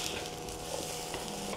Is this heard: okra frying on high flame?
yes